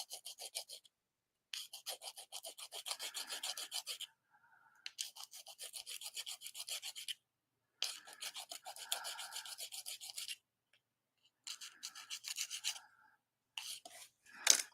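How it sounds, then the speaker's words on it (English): Sandpaper rasps against the bottom of a small object to remove excess flashing, coming as close, rapid back-and-forth scratching strokes in several bursts separated by short pauses. "I gotta sand it down a little. It's got too much flashing on the bottom."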